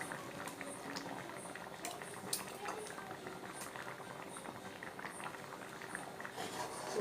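Steady bubbling and simmering of thick egg curry in a pot, a continuous soft patter with small pops, close by and fairly quiet.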